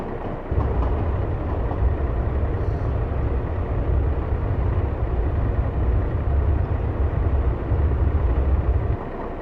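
A 09 Series ballast tamper in the railway simulator Train Sim Classic runs with a loud, steady heavy diesel drone and rumble that holds unbroken for several seconds before dropping off at the end.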